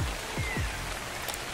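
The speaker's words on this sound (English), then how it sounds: "And what do you know? It's raining." Rain falls steadily in the Ark survival game on the island map, a dense, even patter that fills the clip without pause.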